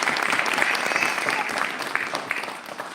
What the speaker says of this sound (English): let's have a round of applause for everybody that has led you to this